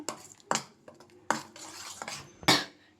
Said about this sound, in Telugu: బటర్ వేసేసి ఇది కూడా మనం మంచిగా మిక్స్ చేసుకుంటాం